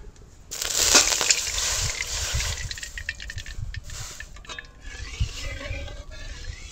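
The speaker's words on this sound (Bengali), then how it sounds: "এবার আমি এই কাপটা মেপে 1 কাপ জল দিয়ে দেবো।" One cup of water pours into a hot pan while making a semolina and potato snack, giving a loud hissing splash that fades into a softer bubbling sizzle with a few clinks of the pan.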